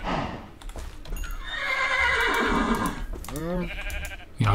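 A Minecraft horse gives a loud, close whinny that rises and falls, with blocky clip-clop hoof steps and a second short neigh near the end, heard alone with no talk.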